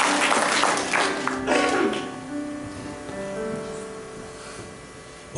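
Church congregation clapping during a Sunday service, a broad wash of applause that starts strong and gradually thins, with a low musical tone and some voices underneath.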